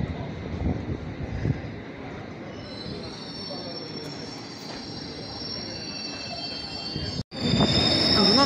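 A London Underground train bound for Ealing Broadway pulls into Barking station with a steady rolling rumble and high, sustained wheel squeal, briefly cutting out before returning loud and close.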